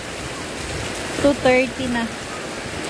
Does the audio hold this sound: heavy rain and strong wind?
yes